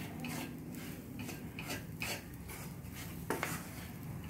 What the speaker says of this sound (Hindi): इसको सब मसालों को अच्छी तरह से मिलाएंगे